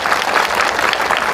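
Loud, dense clapping from a large crowd at a political rally in Hardoi, a continuous close-up roar of many hands with no break throughout.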